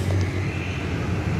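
A JRG sleeper bus on a Scania K410 chassis passes at the Lambaru roundabout with a steady, loud low rumble and whooshing hum, close by, no voices.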